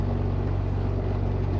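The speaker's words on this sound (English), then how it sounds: "We're doing about 700-800 RPMs" A Beechcraft G58's piston engine idles slowly at 700 to 800 rpm just after a cold start, a steady close low rumble with a throbbing pulse and no breaks.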